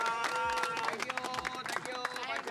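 Audience clapping and cheering fills a live stage event during a motorbike giveaway with Yamaha, dense and steady throughout, with crowd noise and voices mixed in.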